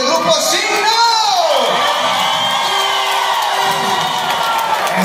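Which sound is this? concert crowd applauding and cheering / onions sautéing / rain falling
concert crowd applauding and cheering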